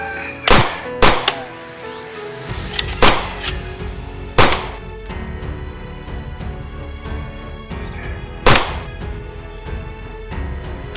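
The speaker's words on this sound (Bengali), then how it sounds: "এইভাবে ফায়ার করো" Guns are fired in a series of sharp, loud cracks, about five prominent shots at irregular intervals, with smaller snaps and ringing clatter between them and no talk.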